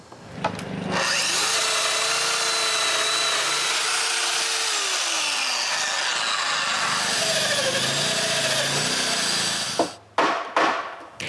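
A power tool bores domino mortises into wooden planks for a pair of chalet shutters, a loud steady whine running about nine seconds before cutting off, followed by a few short knocks and clatters.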